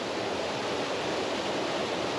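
Water rushes continuously through a brook at Padley Gorge, a dense, steady, close-up splashing hiss with no voices.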